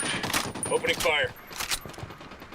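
Gunfire in a Ghost Recon Wildlands firefight: several dense bursts of shots fill the clip, loud and close, with short gaps between them and game voices calling out over the shooting.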